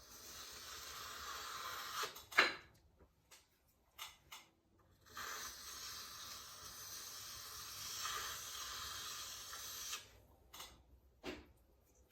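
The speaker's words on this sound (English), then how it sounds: "You cut it off, scrape it off." A wet trimming tool scrapes excess clay off the foot corner of a pot on a slowly turning potter's wheel: soft, hissy scraping strokes in several bursts, broken by short pauses and light taps, with no talking.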